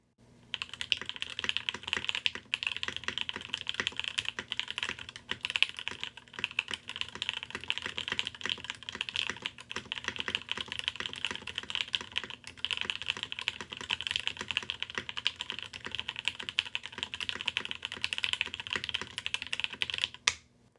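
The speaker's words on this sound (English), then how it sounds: "PBT and ABS sound different on the boards" Steady, continuous typing on a Keycult mechanical keyboard with crisp, clacky keystrokes, close and even in pace throughout, no voices.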